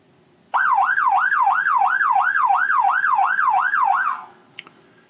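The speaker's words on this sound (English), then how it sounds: "So let's play the siren." A siren sound effect fired from theatre cue software, a wailing tone rising and falling in steady cycles, loud and alone for about three and a half seconds before cutting off, followed by a faint click.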